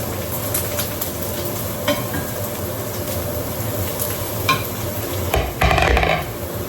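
Onions frying on a stove over turned-down heat, browning before cabbage goes in: a steady close sizzle with faint stirring scrapes and a brief louder clatter near the end.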